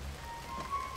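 Steady rain falls outdoors while a small cat watches, a soft continuous hiss of drops on surfaces with faint low rumble underneath, even and unbroken throughout.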